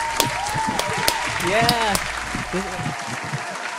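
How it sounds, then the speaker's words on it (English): A round of applause from a studio audience on a comedy show, dense clapping under a voice and a woman's excited speech, fading out near the end. "everyone, give him a round of applause."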